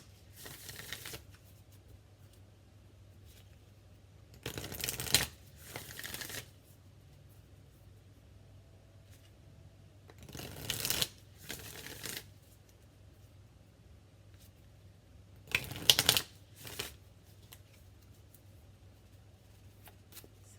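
A deck of Star Seed Oracle cards is shuffled in three separate short bursts of quick riffling flutter, spaced several seconds apart, with near silence in between.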